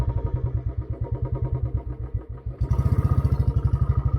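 Motorcycle engine with a fully burning clutch struggling on an off-road climb toward Kolukkumalai, a close, loud, chugging thump pulsing rapidly and steadily, with a brief dip before it revs harder and faster.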